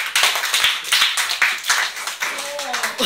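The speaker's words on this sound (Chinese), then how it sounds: "第一题掌声鼓励" A classroom of students claps in brisk, uneven bursts for a classmate who solved a math problem, with voices starting up near the end.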